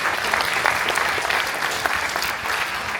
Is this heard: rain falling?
no